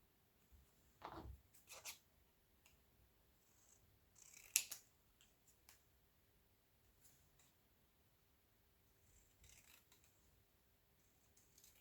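Scissors snipping paper pieces for a scrapbook album, a few short crisp cuts and rustles scattered across a quiet room, close and soft.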